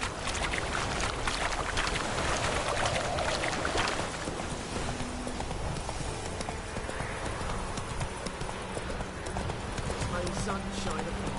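Horse hooves clip-clop steadily in a fantasy video game, the trotting continuous and fairly close under a wash of outdoor ambience, with someone speaking over it.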